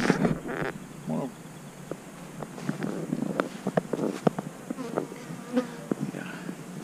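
Honey bees buzzing around an open hive during a honey harvest, a close, busy drone with individual bees zipping past amid outdoor noise and scattered clicks.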